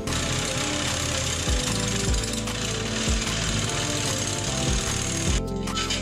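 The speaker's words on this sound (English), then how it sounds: "we can now get to drilling the hole" A power drill runs steadily and loudly throughout, boring a hole in a metal pipe, its motor droning with a few brief dips in pitch as the bit bites into the metal.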